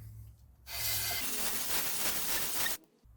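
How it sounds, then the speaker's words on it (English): A carburetor part from a Zenith carburetor on an International Harvester 240 is worked in figure-eight strokes over 400 grit sandpaper laid on an aluminum plate, producing a steady, close, gritty rasping that runs for about two seconds, then stops. "Lay a sheet of 400 grit sandpaper on there, and we'll just start working this in a figure 8 pattern."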